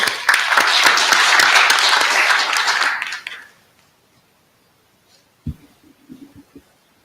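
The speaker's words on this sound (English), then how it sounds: "I'd like to sort of kick off a round of applause to everyone." An audience at an IETF NETCONF working group meeting breaks into dense, sustained applause for about three seconds, then it quickly stops, leaving near silence and a few faint knocks.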